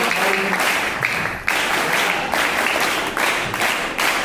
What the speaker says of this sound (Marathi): जोरदार पुन्हा एकदा टाळ्या यांच्यासाठी झाल्या पाहिजे।